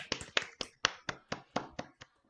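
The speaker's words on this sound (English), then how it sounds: "let's give a big round of applause to Colin" Clapping for the tech at a virtual improv show: about ten sharp, evenly paced hand claps close to the microphone, over quiet silence.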